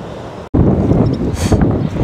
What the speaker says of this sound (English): The wind swaying the leaves.